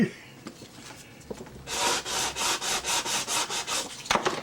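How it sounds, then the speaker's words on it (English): After a few faint knocks, an old sanding block rubs back and forth across wooden model railroad ties in a steady rhythm of about a dozen scratchy strokes, close and fairly quiet. "before that we'll sand the ties lightly"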